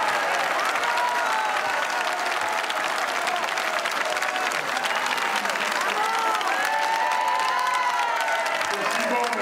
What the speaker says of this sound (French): mesdames et messieurs, je vous demande d'applaudir très fort, monsieur Georges Fraîche.